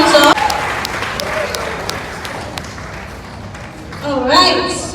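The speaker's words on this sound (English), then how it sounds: "Please a round of applause as she comes up" A crowd at the Grow Conference 2025 applauds a speaker coming up on stage, with scattered claps and taps over a quieter room before a voice starts speaking near the end.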